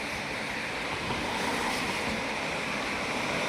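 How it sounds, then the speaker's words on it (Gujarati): A constant, broad rush of floodwater after heavy rain, loud and steady throughout, like a strong flow surging past nearby beside a road, with some wind buffeting mixed in. "મોટું પાણી હાલે છે આ બાજુ"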